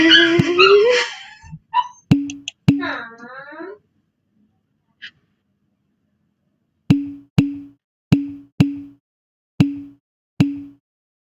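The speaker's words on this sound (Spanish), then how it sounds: "mi perro comenzó a llorar" A dog whimpers and cries in a run of short, high, evenly spaced yelps after a person briefly speaks, the whines close and clear against otherwise quiet surroundings.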